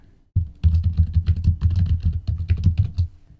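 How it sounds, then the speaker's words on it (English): Brisk typing on a computer keyboard entering login details on a Linux server, a fast close run of clacking keystrokes that starts abruptly and continues steadily. "we'll simply enter the username and the password"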